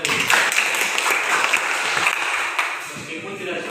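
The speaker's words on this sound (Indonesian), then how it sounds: "Tepuk tangan buat dia tadi." A classroom of students claps for a classmate, a lively burst of many hands that stays fairly full before thinning slightly toward the end, with faint voices mixed in.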